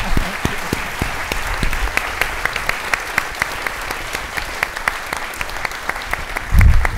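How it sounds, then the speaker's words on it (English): Steady audience applause for panelists at the end of a discussion event, a continuous wash of many hands clapping with a few sharper individual claps standing out. "Round of applause."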